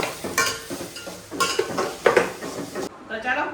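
A metal pot clatters and scrapes repeatedly as dal is stirred hard inside it, loud and close, with brief clinks and a faint sizzle between strokes.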